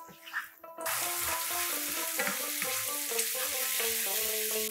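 Spice masala of chilli powder, Kashmiri chilli powder and turmeric fries on medium-low flame, a dense continuous sizzle kicking in after a brief quiet start, with bubbling crackles and a faint tonal hum underneath.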